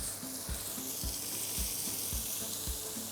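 Boar or pork meat roasting in a little oil, giving a steady close sizzle with regular low stirring or scraping strokes roughly every half second.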